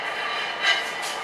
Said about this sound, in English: excuse the noise of the oven